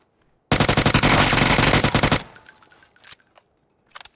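Rapid 9mm automatic gunfire in PUBG, a loud close burst of tightly spaced shots lasting about two seconds, then fading echoes and faint clicks.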